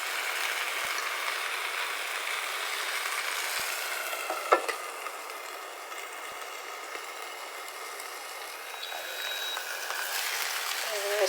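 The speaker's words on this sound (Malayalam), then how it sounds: "ഇതൊരു ഷാലോ ഫ്രൈ ആണ്" Fish shallow frying in a pan, a steady bright sizzle throughout with a faint clink partway, close and even, with no talk.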